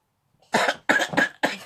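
Three or four sharp coughs in quick succession, close and fairly loud, after a short silence.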